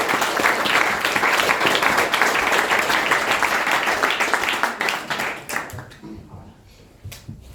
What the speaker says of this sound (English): could we please have a round of applause for Michael Leask.